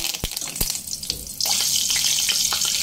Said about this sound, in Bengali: ওই গরম তেলের মধ্যে আমি কারি পাতাগুলো দিয়ে